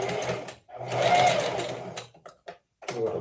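A sewing machine runs a back stitch along the edge of cloth, with two close, steady bursts of motor whirring and needle chatter, then short pauses and clicks before it starts again.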